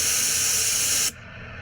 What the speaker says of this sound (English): Gunther also demonstrated how to use bear spray the correct way.